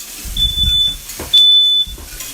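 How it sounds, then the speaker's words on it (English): A kitchen smoke alarm goes off in two shrill, steady high-pitched beeps, each lasting about half a second, over faint low background noise. "we were pretty much guaranteeing that the smoke alarm was going to go off"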